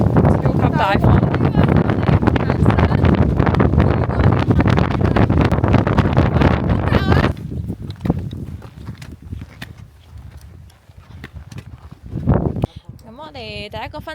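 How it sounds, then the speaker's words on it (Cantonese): Very strong wind buffets a mountain trail near El Chaltén, Argentina, roaring loudly for several seconds before easing into gentler gusts. People talk over it. "超級大風。"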